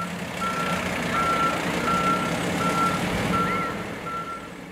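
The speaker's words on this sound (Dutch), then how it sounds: "Jullie hebben ook een nieuwe brandweerauto." A fire truck at a fire station open day reverses, its backup alarm sounding six evenly spaced, steady beeps over a loud, constant diesel engine rumble.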